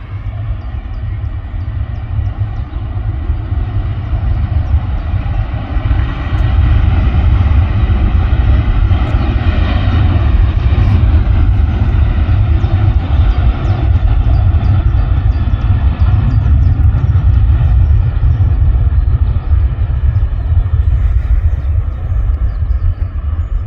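A plane rumbles past the Southside viewing area at Manchester Airport on a misty day, a loud, deep, continuous engine roar that swells and holds steady throughout, with no talking.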